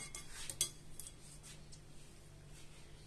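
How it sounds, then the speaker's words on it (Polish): Chopped ingredients, including diced meat, are tipped into a mixing bowl with a few light clinks and rattles of a utensil against the bowl, quiet and close, over a soft steady background hum. "Wszystko sobie wrzucamy do miski."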